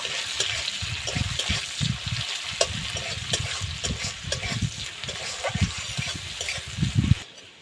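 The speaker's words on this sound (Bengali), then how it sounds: "জিরেটা একটু ভেজে নেব পেঁয়াজ কুচি দিয়ে দেবো পেঁয়াজটা ব্রাউন কালার করে ভেজে নেব" Chopped onions with cumin seeds frying in a pan until brown, a steady wet sizzling and bubbling with stirring bursts throughout, fairly loud and close, no voices.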